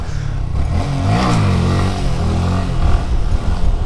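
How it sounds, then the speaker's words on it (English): Honda Grom motorcycle revved loudly at close range with the clutch pulled in before a wheelie, the engine note rising and falling through a rough, rumbling throttle blip. "you just pull the clutch in, rev the bike up, and then just let go of the clutch"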